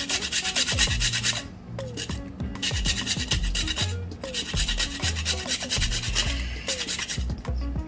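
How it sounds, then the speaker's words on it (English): Fresh nutmeg rasped over a grater for peach cobbler cookie bowls, a close, loud, rhythmic scraping in steady back-and-forth strokes with a short pause partway through. "I'm gonna grate a little fresh nutmeg, about half a teaspoon worth."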